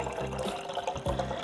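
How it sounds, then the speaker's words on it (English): Used film developer, from an Adox chemistry process run in an AGO film processor, is poured out into a bottle. The liquid gives a quiet, close, continuous splashing trickle for about a second and a half. "So now we need to pour it out and pour it to the same bottle."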